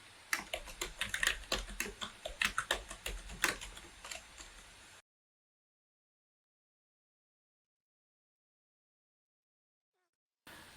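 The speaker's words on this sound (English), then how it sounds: "I will type the password for my account." Keys clatter on a computer keyboard as a password is typed, a quick close run of distinct taps lasting about five seconds before silence.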